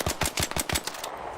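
Gunfire in a shooter video game, a fast burst of about seven loud, evenly spaced shots that stops abruptly, leaving a faint tail of quiet background.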